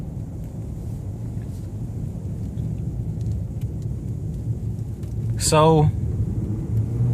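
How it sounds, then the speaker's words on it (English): A 2015 Ford Expedition accelerates, its engine and road noise a steady low rumble inside the cabin that swells briefly, with someone speaking over it. "I just tap the gas and the thing takes off"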